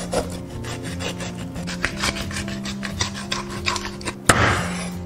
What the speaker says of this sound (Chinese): 片出鱼肉